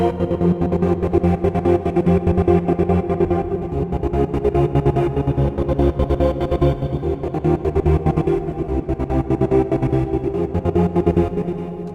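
A trance synth patch runs through a trance gate, chopping a thick chord into fast, evenly pulsing stutters that repeat steadily and loudly throughout, with no voices.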